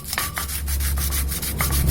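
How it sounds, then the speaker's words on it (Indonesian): A welded sawmill blade is sanded by hand, giving steady close abrasive rubbing in quick repeated back-and-forth strokes with no one talking. "Nah diamplas saja."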